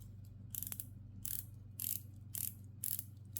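A ceramic dive bezel on a titanium solar watch is turned in short bursts, five quick clusters of ratcheting clicks spaced about half a second apart, close and quiet over a faint steady hum.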